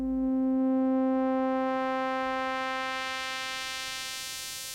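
A band pass filter sweeps from 0 to FF on an LSDj tracker, a sustained buzzy tone whose lower harmonics fade as the passband climbs, leaving a thin bright upper overtone sound as it slowly decays.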